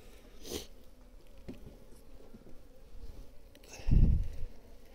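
Honeybees buzz around a hive while warm syrup is set out for them, a faint continuous hum nearby with a couple of louder close passes and soft handling noises.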